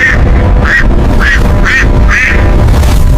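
A large duck quacks loudly and close by, giving five evenly spaced nasal quacks in quick succession over a dense low background rumble.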